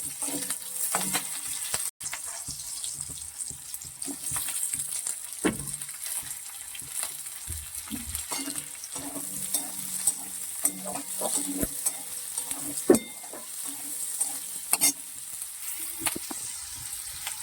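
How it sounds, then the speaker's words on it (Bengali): Chopped onion and capsicum stir-fry in a pan, a soft sizzle beneath frequent scraping and clattering stirs, close by, with one sharp knock early on and no speech. "পেঁয়াজটা একটু নাড়াচাড়া করে নিয়ে তারপরে এই ক্যাপসিকাম গুলো দিয়ে দেবো।"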